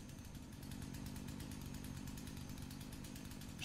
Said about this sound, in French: J'entends la tronçonneuse, c'est le moment.